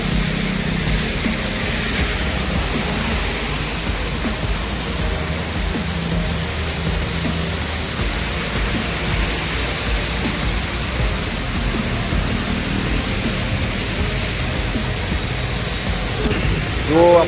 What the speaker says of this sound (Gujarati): જો વરસાદ ફૂલ છે અને હજુ પણ વરસાદની શક્યતા છે